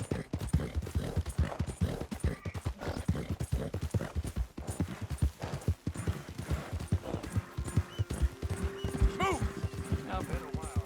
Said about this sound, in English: God damn drunk horse.